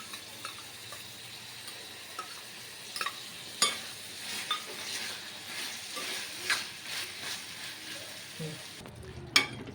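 Mutton frying in a pan with scraping and stirring clatter at irregular intervals, a steady sizzle underneath, fairly close and moderately quiet.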